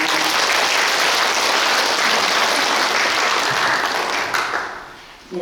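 A hall full of people claps steadily at an academic conference marking the 50th anniversary of Hwangnyongsa, a Cheontae Buddhist temple, after the opening address. The dense applause holds loud throughout, then thins out and fades near the end.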